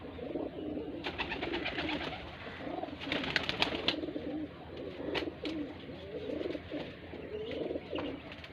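Pigeons coo in a hobby pigeon keeper's loft, a continuous soft throaty burbling from several birds close by, broken by sharp clicks and flutters.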